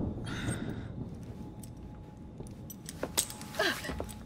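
Keys jangle briefly as they are handed over in the video game Assassin's Creed Syndicate, a couple of close metallic rattles near the end after a quiet, murmuring stretch.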